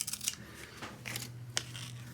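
Special pattern scissors cut through a paper pattern for copper foil glasswork, giving a few quiet, close snips and rustles at irregular intervals with no voices.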